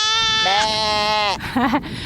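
A person outdoors near a flock imitates a sheep, voicing one long, wavering, loud bleat to attract the sheep, then a shorter warbling cry.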